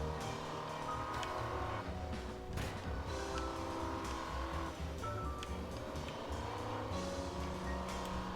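Engine drone and tyre noise from a vehicle race in LittleBigPlanet 3, a continuous layered motor hum with shifting pitch and brief squeals, steady and fairly loud with no talk.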